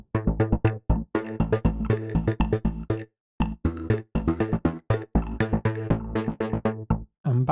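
A synth patch, the vanilla Contingency Extended preset in Omnisphere, plays a rhythmic sequence of short plucked notes with brief gaps, bright and close with no talking.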